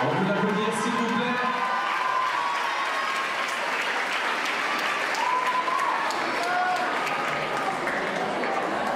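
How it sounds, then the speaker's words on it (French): A crowd at the Miss Saône-et-Loire 2014 beauty pageant gives steady, loud applause, with thick continuous clapping and scattered cheers and shouts from the audience. "On peut l'applaudir, s'il vous plaît."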